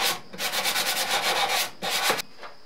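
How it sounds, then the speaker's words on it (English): Wood is rubbed back and forth with a sanding block while a cigar box guitar is being built, a near, steady rasping scrape in rhythmic strokes with a brief pause before a final burst. "I'll take my sanding block and just kind of do some finer sanding on it"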